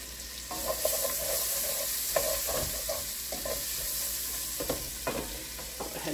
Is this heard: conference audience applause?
no